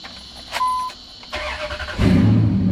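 A 2003 Dodge Ram 1500 with a Hemi engine cranking after a battery terminal replacement, a short beep and brief starter whir, then the engine catching and settling into a loud, close, rumbling idle.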